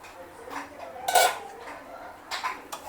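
A metal lid is set onto a pan of stuffed eggplant with a short clatter of cookware, followed by softer metallic clinks and a second lighter knock, close by with no talk.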